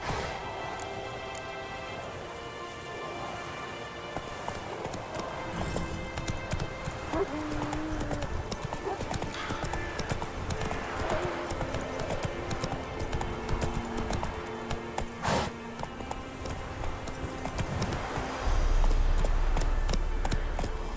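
Horse hooves clip-clop in a steady galloping rhythm across open ground in The Witcher 3, moderately close, with light rain-like patter in the background and no talk.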